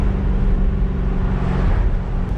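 A C8 Corvette with an aftermarket exhaust accelerates, giving a loud, deep, continuous engine drone heard close up throughout, with no talking.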